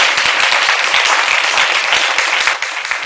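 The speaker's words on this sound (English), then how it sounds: "they'll give you a lovely round of applause" A theatre audience breaks into a lively round of applause during a stage pickpocket act, dense continuous clapping that stays strong before easing off at the very end.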